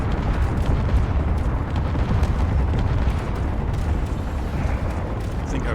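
Turrets firing in the space game Space Engineers: a steady, loud, rumbling barrage of overlapping blasts and crackling impacts that goes on without a break, with a voice under the din.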